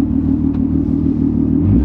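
A car engine at a high, steady rev close by, its loud, dense rumble echoing off a nearby wall.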